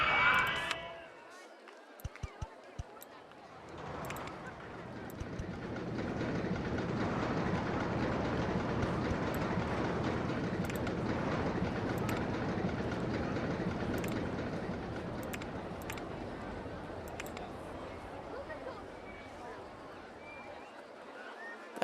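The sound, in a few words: roller coaster train running on track in OpenRCT2 video game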